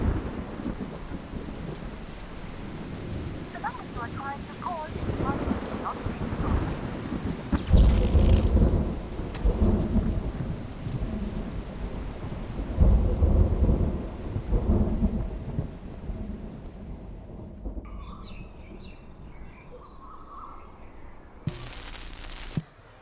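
Heavy torrential rain pours down with deep rolling thunder rumbling through it, a dense steady downpour that swells and recedes over the stretch, with no speech.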